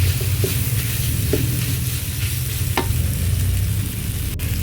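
Beef and pickled bamboo shoots stir-fried in a pan, a continuous close sizzle broken by a few sharp clicks of the spatula against the pan.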